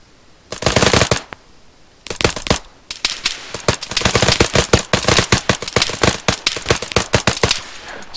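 Rapid gunfire fills a military shooter video game, bursts of automatic fire crackling in quick rhythmic strings with short pauses between them, loud and close with no talk over it.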